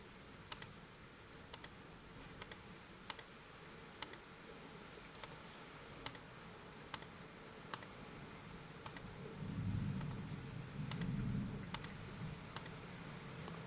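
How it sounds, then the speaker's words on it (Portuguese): A password is typed on a computer keyboard: faint, sharp key clicks come singly at spaced intervals over a low background murmur. "Vamos digitar a senha."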